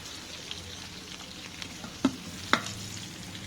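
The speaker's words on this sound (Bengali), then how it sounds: "আস্তে আস্তে ভাজা ভাজা হচ্ছে, তা আমরা মোটামুটি একটু ভাজার জন্য সময় নিচ্ছি।" Spices frying in mustard oil in a pan make a quiet, steady sizzle, with a couple of sharp clicks from a utensil against the pan partway through.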